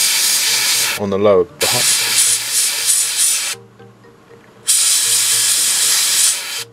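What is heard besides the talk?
airbrush spraying XF24 paint on model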